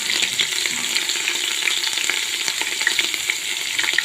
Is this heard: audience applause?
no